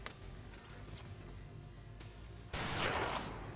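A single loud weapon shot from the game XCOM 2 bursts in sharply near the end, following a stretch of low rumbling game ambience.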